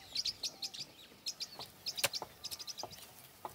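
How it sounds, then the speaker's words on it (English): A caged red-crested cardinal gives a rapid series of short, bright chirps and tweets, fairly close and moderately loud, with outdoor background and no talk. "The bird in the cage is a red-crested cardinal, just like the ones we're going to release here. Its call will attract other birds."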